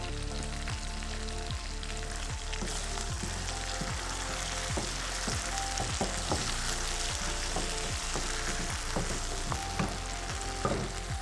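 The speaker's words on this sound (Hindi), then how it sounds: "ऑयल के बाद हम डालेंगे इसमें 1 टीस्पून ज़ीरा। ज़ीरा हमारा थोड़ा सा जल जाएगा इसमें।" Cumin seeds sizzling in hot oil as a tempering for rice, a loud, dense, unbroken crackle heard close up, with regular light scraping strokes of stirring running throughout; no voices.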